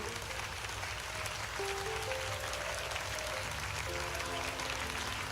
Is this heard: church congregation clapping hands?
yes